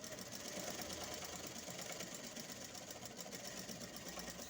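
A sewing machine stitches raincoat pants, giving a steady, continuous mechanical whir with a fast rattle that holds at an even level throughout.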